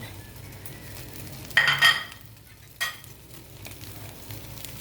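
Previously cooked cabbage goes into a hot frying pan for a low-carb home dish, giving two short sizzling bursts with a light clink of utensils. A faint kitchen background runs beneath.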